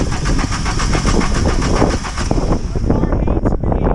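An MK3 Golf with new spark plugs, wires, distributor cap and rotor cranks outdoors in the cold, its starter churning with a steady rapid rhythm for several seconds without the engine catching.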